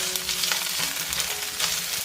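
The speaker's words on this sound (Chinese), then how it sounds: "然后加入香菇，继续翻炒。" Chinese sausage and shiitake mushrooms stir-fry in hot oil in a wok, giving a steady, fairly quiet sizzle with faint stirring and scraping, no voices.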